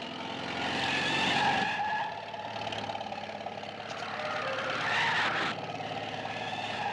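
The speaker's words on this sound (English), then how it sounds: "Whoever's driving that truck's mighty shy on brain." A truck drives by on a country road with tires skidding and squealing loudly, engine roar and screech rising twice across the pass, with no talk over it.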